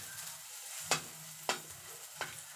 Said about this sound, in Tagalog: Gisa na siya ng ahos at sibuyas.